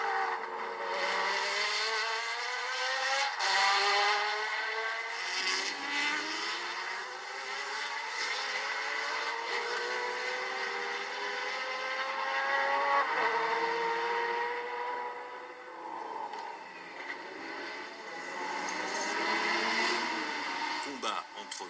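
Race cars including a Jaguar at the 1991 Le Mans 24 Hours roar past continuously, engine pitches sweeping up and down as several machines pass in succession under crowd and commentary noise.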